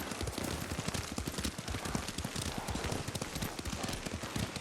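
Horse hooves clop rapidly in a steady galloping rhythm as a rider travels on horseback in the video game Ghost of Tsushima, loud and close, with a continuous rushing noise beneath the hoofbeats.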